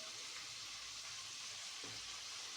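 Ingredients sautéing in a pan for chicken pochero, a faint, steady sizzling hiss that runs unbroken with no voices.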